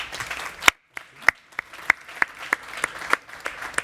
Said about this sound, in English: So a warm round of applause for our panelists